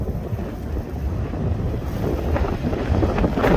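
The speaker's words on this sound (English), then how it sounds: "Sorry about the wind." Loud, rumbling wind buffeting the microphone, constant and close, with a faint outdoor wash behind it and no voices.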